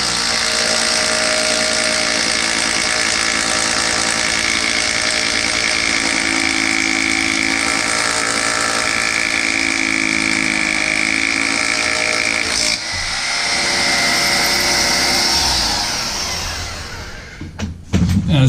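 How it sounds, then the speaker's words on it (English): A rotary hammer breaks out a rusted toilet flange, its loud continuous motor-driven chatter running steadily for about twelve seconds, pausing briefly, then resuming before cutting off near the end. "Get yourself a nice roto hammer and watch how quick this goes."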